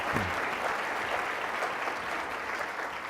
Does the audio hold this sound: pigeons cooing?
no